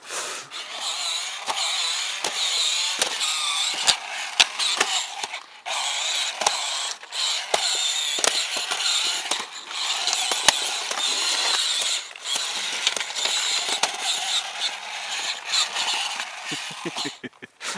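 Plastic gears and linkages of a LE NENG TOYS K5 Climber Mecha all-terrain RC vehicle clatter and creak in rapid bursts, with repeated sharp knocks as its tail bangs, close-up and steady.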